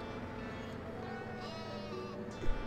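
Sheep bleat in the farming game Landwirtschafts-Simulator 17, a steady wavering call over constant low game ambience, with a slightly louder bleat near the end and no talk.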